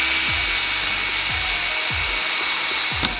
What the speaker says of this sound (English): between your two panels, you would drill a hole